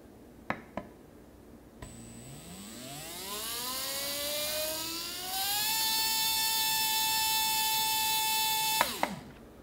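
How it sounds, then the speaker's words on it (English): An old electric RC motor spins up on a motor analyzer dyno for a noise test, a rising whine that climbs steadily in pitch then holds a loud, steady high tone before cutting off, with a few clicks at the start and end. "So this motor peaked at about 87 decibels."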